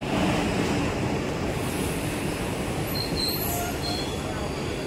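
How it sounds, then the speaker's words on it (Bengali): A Mumbai local train pulls into a station, a steady loud rumble of wheels and carriages running the whole time with faint high squeals on top and voices mixed underneath. "হয়তো এই যে লোকাল ট্রেন ঢুকছে"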